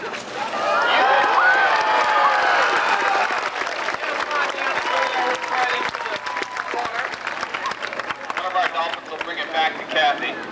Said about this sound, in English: So let's have a nice round of applause for Joe.